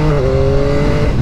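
A 2022 Yamaha XSR900 motorcycle engine accelerating hard under load, a loud, close, steady tone that climbs briefly before holding, with no talking.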